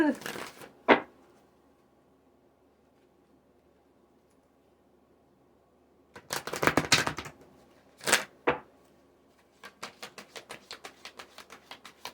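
A deck of tarot cards is shuffled, with short papery riffle bursts separated by quiet gaps, then a quick rhythmic run of card flicks near the end.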